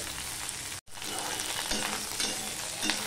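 Okra (ladies finger) fries in a pan, a close steady sizzle with stirring scrapes, briefly cut off for a moment before resuming.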